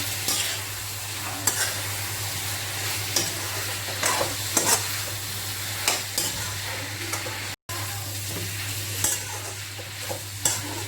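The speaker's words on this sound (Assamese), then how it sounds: "এইখিনিতে মই এবাৰ ধুনীয়াকৈ লৰাই দিম" Spoon scraping and stirring chili powder, cumin, coriander and chicken masala in a sizzling pan for Assamese chicken curry, with regular scraping strokes over a steady low fry and hum.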